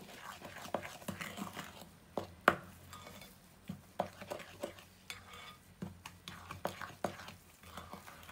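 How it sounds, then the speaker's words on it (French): Utensil stirring and scraping in a bowl while flour, baking powder and cocoa are mixed for chocolate coconut shortbread cookies, with a steady soft rasp and sharper taps against the bowl's side. "et je mélange."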